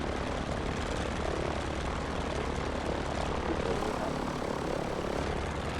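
Steady, droning engine of a small propeller airplane taxiing toward a runway, loud and continuous with no breaks.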